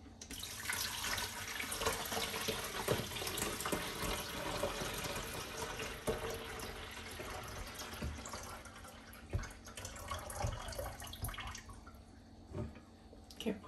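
Water pours steadily from a glass carafe into a coffee maker's reservoir, a continuous close splashing fill with faint drips that runs for about fourteen seconds without talk.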